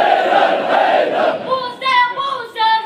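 A large religious gathering answers a chanted slogan in unison, a loud massed shout of voices followed by a solo singer's amplified voice responding in sustained melodic phrases.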